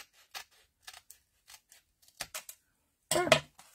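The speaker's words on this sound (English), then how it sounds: "I'm going to cut this" Scissors make a series of short, crisp snips while cutting paper along a line for a handmade junk journal, with a longer, louder cut near the end, all close and without talk.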